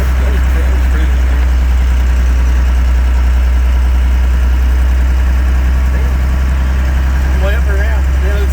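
First-generation Cummins diesel in a Dodge Power Ram farm truck on a test drive after a rebuild: a loud, constant low engine drone and rumble with faint whines on top, under brief talk from the occupants.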